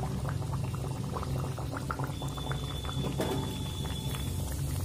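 Coriander-stuffed kachori deep frying in hot oil over a medium flame, a continuous dense bubbling sizzle with crackling pops, steady and close throughout.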